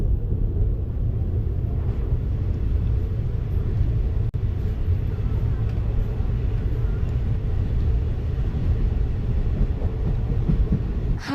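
A passenger train on the Palakkad route in Kerala, an Ernakulam–Bangalore intercity service, rolls along with a loud, steady low rumble and continuous wheel and carriage noise throughout, with no voices.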